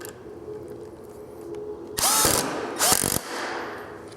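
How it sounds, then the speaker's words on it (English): Power drill driving heavy-duty joist hanger screws into wood for a target stand, two loud whirring bursts about a second apart, each ending abruptly, set against a quieter background. "put us 3 more screws in there"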